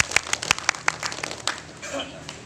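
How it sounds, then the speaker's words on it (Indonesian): An audience at a scout ceremony breaks into scattered, uneven clapping, sharp nearby claps fading out, while people talk over it. "Tepuk tangan dulu."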